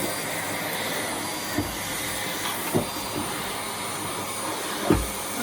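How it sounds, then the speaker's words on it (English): Miele canister vacuum with a turbo brush running, a steady loud broadband roar with a faint high whine held throughout, plus a few dull low thumps as the brush knocks against the floor. "now we're going to use my bug-eyed ladybug Miele that I refurbed"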